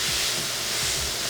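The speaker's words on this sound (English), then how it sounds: "I'm gonna put it back on the pan and sear the shit out of it" Food, a rice, green bean and turkey patty, sears in a pan over high heat, giving a steady broadband hiss without pause through the short stretch.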